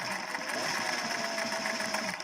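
A classic Singer 40 Slant-O-Matic sewing machine stitches continuously, with a close, steady mechanical whir and rapid rhythmic needle clatter, no voices.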